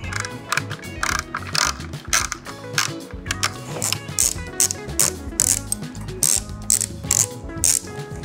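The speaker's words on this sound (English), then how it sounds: "let's remove these screws so that we have a little more play in the wire coming from the brake light. This is an 8mm socket." A ratchet with an 8mm socket removing screws near a motorcycle's brake light on a Suzuki SG400, giving loud, close, rapid clicking bursts that repeat steadily throughout.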